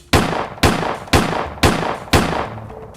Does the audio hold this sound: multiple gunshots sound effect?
yes